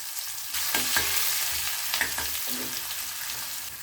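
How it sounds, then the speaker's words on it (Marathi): Onion frying in hot oil with mustard seeds, cumin and a pinch of asafoetida, a close steady sizzle broken by a few sharp stirring scrapes. "हा कांदा छान तांबूस लालसर आपल्याला करून घ्यायचं आहे"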